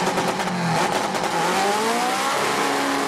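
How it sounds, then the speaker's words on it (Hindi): Drag race cars revving hard at an auto show in Lahore, the engine note rising and sweeping in pitch under a steady, dense roar of crowd and machinery. "ऑटो शो में 20 के करीब ड्रैग कार्स और हैवी बाइक्स की नुमाइश की गई।"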